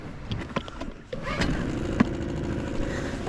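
A small kayak outboard motor runs steadily at close range, a low continuous drone with faint clicks and knocks over it.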